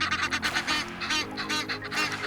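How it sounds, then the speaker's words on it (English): A flock of ducks honking and quacking continuously in Nile River swampland near Aswan, Egypt, several birds calling over one another at close range. "basically like swamplands where ducks are living"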